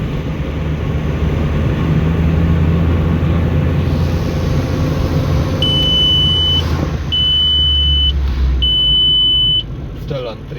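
Steady loud engine drone of a Volkswagen Golf Mk1 with a freshly built engine pulling uphill in third gear, with a repeating electronic beep chiming three times partway through.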